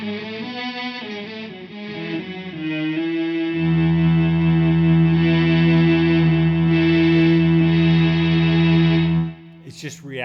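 An electric guitar runs through an Electro Harmonix Mel9 effects pedal, producing sustained, layered synth-like tones that swell into a thick held chord for several seconds before abruptly stopping.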